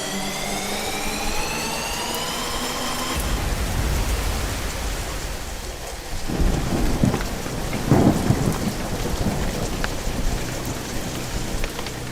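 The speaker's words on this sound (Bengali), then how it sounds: "এদিকে এই রেল লাইন পাতার জায়গায় সমস্তক্ষণ বৃষ্টি পড়েই চলল অবিরাম ধারায়।" Heavy rain pours steadily in a loud continuous hiss while thunder rumbles low and rolls through, with a sharper crack partway along; a rising tonal whine fades out early.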